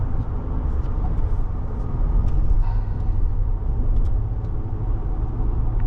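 A 2022 RAM 1500 Rebel with a HEMI engine drives through a corner, heard from inside as a steady low road rumble and engine drone with faint rattles, no talk.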